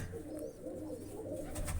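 A white-eyed red hen pigeon sits on her chicks, with soft, low cooing repeated in gentle pulses close by.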